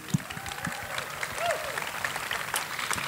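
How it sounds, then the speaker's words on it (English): Audience applause at an indie game festival awards show honoring game developers: a steady wash of clapping from a large crowd filling the whole stretch, with a few faint voices underneath. "A round of applause for all of our developers."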